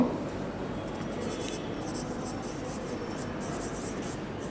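A pen writes out a math definition of fractions for a class, a soft continuous scratching and rustling close by with a faint steady background hiss.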